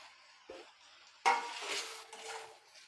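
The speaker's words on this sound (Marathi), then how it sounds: "आणि आता हे फ्राय केलेले कारले घालू आपण यामध्ये" Fried bitter gourd pieces tipped into a pan with onion and stirred with a metal spoon, a sharp scrape and clatter followed by steady scraping and a faint sizzle, close and without talk.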